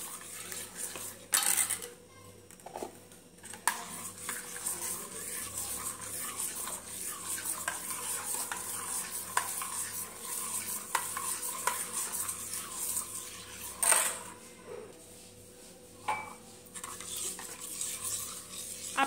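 Ground raw mango being stirred into jaggery syrup in a pot, soft repeated scraping and swishing of a spoon against the metal, quiet and steady with a few louder knocks.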